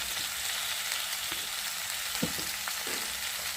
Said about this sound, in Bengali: আর ভালো করে মশলাটাকে নেড়ে দেবো